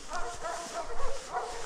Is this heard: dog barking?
yes